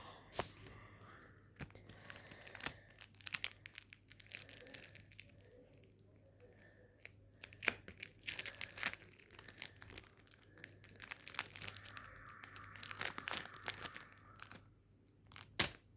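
Trading card packs being torn open and their foil wrappers crinkled by hand, a run of close, sharp rustling and tearing bursts across the clip with quieter gaps between handfuls.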